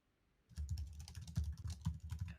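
Rapid typing on a computer keyboard starts abruptly after a short quiet moment, with dense, close clacks and thumps of keys in quick uneven bursts and no one talking.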